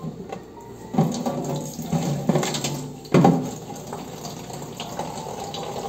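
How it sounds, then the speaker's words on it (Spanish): Tap water runs into a container to be mixed with white vinegar for cleaning a fridge, a steady close splashing flow that swells louder in a few spots, with no talking over it. "vamos a estar echando el poquito de agua y para mezclar con el vinagre"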